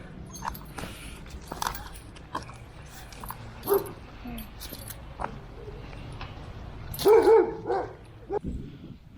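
Dogs barking outdoors in a Russian city centre, several short bursts with one louder cluster of barks midway, set against steady street background noise.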